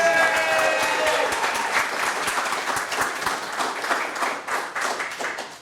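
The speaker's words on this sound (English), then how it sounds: "Give that man a round of applause, please." Sustained applause from an audience at a general club meeting, dense steady clapping that fills the room and tapers slightly toward the end, with no speech over it.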